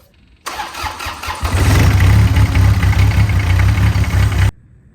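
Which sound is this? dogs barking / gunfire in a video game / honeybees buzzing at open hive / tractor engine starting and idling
tractor engine starting and idling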